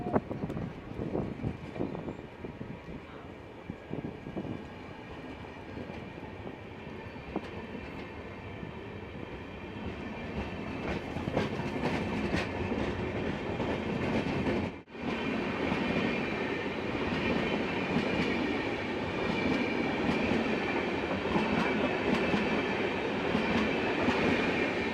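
A MEMU fast passenger train on the Erode–Salem line pulls out of Ayodhyapattinam, a single-platform station, with a sustained rolling rumble and clattering wheels that grow fuller as it moves off. There is a brief dip partway through, and no talking.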